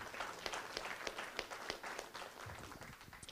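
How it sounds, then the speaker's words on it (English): Meeting attendees at a salmon partnership gathering clap in a steady round of applause, moderately quiet and fairly even throughout the short stretch. "would you join me in giving Stefan a round of applause for that excellent work?"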